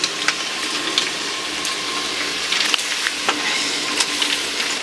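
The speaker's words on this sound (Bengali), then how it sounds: "পুঁই শাকের ডোকাগুলো ছেড়ে দিচ্ছি" Malabar spinach stalks go into a cooking pot with salt, turmeric and water, giving a steady soft hiss and sizzle with scattered faint clicks and splashes, with no talking.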